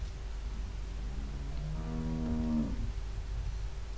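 A single long cow moo from The Walking Dead video game rises and falls over steady low background hum, fairly close and clear, with nobody speaking.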